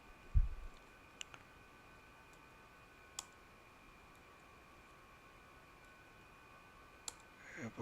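A few isolated, sharp computer keyboard clicks spaced seconds apart in a quiet room with a faint steady hum.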